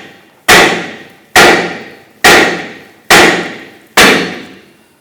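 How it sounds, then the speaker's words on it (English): Five evenly spaced, loud metallic hammer blows ring out close by as a hammer strikes the steering knuckle of a 2006-2010 Hummer H3 to separate the lower ball joint, each strike decaying before the next. "want to go ahead and strike our knuckle here to loosen or separate the ball joint from the knuckle"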